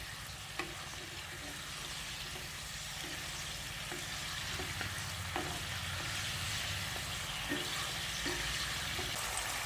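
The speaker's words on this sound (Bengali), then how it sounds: "তারপর গ্রেভির সঙ্গে ভালো করে নেড়ে চেড়ে মিশিয়ে নিচ্ছি।" A spoon stirs soya chunk manchurian into a gravy in a pan, making a steady wet bubbling sizzle with soft periodic scrapes and light clicks against the metal, close and continuous throughout.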